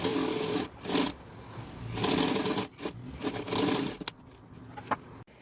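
A sewing machine stitches lining into a crochet bag in several close bursts of rapid whirring, pausing briefly between runs and ending with a few short clicks.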